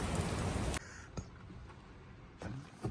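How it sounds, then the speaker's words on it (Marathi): A dense hiss of heavy rain in Goa cuts off abruptly as a car door shuts, leaving a muffled patter on the four-wheeler and a few sharp knocks and thumps. "मी गाडीत बसलोय बघा पाऊस किती आहे"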